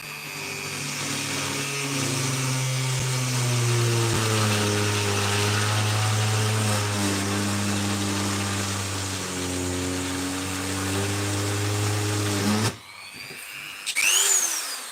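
A Dremel rotary tool whines at a steady, loud pitch for about twelve seconds, its motor drone wavering slightly under load before cutting off abruptly, followed by brief scraping noises.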